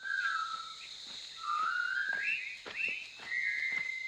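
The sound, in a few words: men whistling a military march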